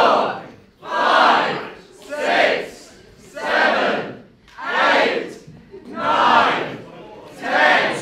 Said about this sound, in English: Stop cheering her on.